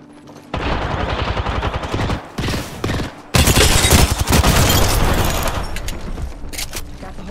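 Rapid automatic gunfire and bursts of shots in the battle royale game Apex Legends, loud and dense with short gaps, building to a sustained heavy volley, with no clear speech.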